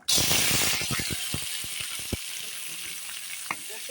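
Diced papaya drops into hot ghee in a wok and bursts into a loud sizzle, settling into steady crackling frying with a few scraping stirs and clicks, no voices.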